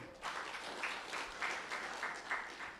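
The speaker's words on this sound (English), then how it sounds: "Clap for her." Soft applause from a small group of students at an orientation, a few seconds of scattered clapping heard from a distance.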